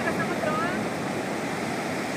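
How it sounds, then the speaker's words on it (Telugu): Big sea waves surging onto a beach make a steady, loud broadband roar with no break, close by and washing over everything. "చాలా ఎత్తులా ఉంది, పెద్ద పెద్ద అలలు వస్తాయి"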